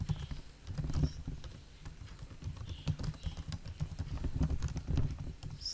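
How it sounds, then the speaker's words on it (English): Rapid, close clicking of keys on a computer keyboard, irregular taps and soft clacks running steadily throughout at a fairly low level, with no one talking. "Type it."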